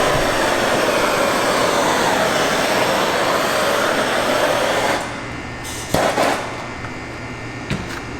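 A powerful handheld blower, far stronger than a household hair dryer, roars steadily while drying the back side of a Tesla Model 3 dashboard during a custom wood trim replacement, then cuts out, leaving a few short bursts and handling noises.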